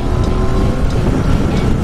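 A Yamaha XSR 900 motorcycle engine on a test ride gives off a steady, close droning rumble mixed with wind buffeting, with no pauses and no talking.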